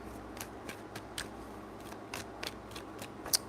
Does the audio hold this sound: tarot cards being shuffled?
yes